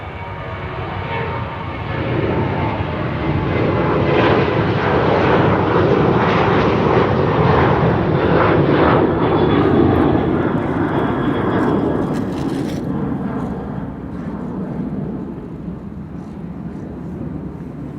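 A Transavia airliner at Amsterdam Schiphol Airport passes near the runway end, its broad engine roar swelling loudly over the first seconds, holding steady, then easing slightly as it recedes, with no talk over it.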